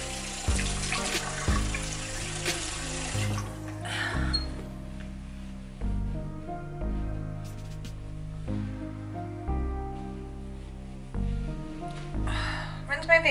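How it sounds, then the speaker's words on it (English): Tap water runs into a bathroom sink while a face is rinsed, a steady splashing flow under soft background music with brief breaks and a few louder splashes near the end. "And then I just rinse my face off."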